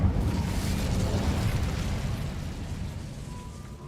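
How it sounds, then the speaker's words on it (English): Hogwarts Legacy Incendio fire spell cast: a dense, roaring blast of fiery rumble starts loud and slowly fades over a few seconds, with no talking. "Incendio!"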